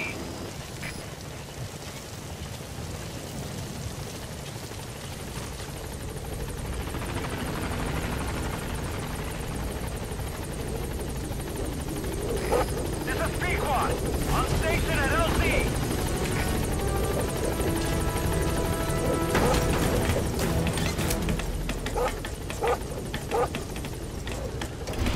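The Pequot support helicopter in Metal Gear Solid V approaches a landing zone, its steady rotor drone continuous and growing fuller throughout, with radio voices talking over it.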